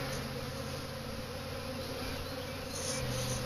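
Dense, continuous buzzing of a honeybee swarm settling around a new hive, steady and close throughout with no talking.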